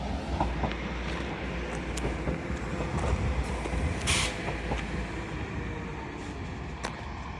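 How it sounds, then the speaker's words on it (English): A Northern Trains class 195 unit, 195107, terminating at York station after a run from Leeds via Garforth, rolls in with a steady low rumble and wheel noise under a busy station hum, and a brief hiss partway through. "Arriving in now, it's a terminating Northern Trains 195, 195, 107 from Leeds via Garforth."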